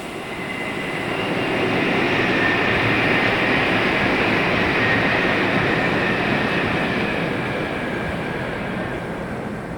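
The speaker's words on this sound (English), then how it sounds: "you have these clunky local trains that sound like they've been running since the 70s" Old, clunky local commuter trains rolling past Umekōji Park in Kyoto, a steady loud rumble with rail noise that swells toward the middle and then eases slightly, with no voices.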